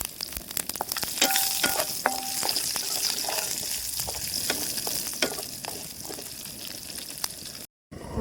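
Curry leaves and chillies sizzling in hot oil for Mumbai street-style vada pav cooked outdoors at a campsite, a continuous loud crackling fry with scattered pops and clicks, briefly cutting out near the end.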